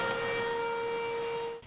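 A civil defense tornado warning siren wails during a May 2011 severe weather outbreak, one sustained steady tone that holds loud and then drops off abruptly at the end.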